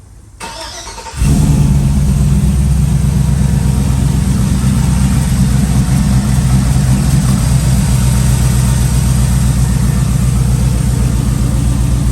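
A car engine with a newly fitted bolt-on exhaust cranks and fires up after a brief quiet start, then settles into a loud, steady, rumbling idle through a throaty exhaust.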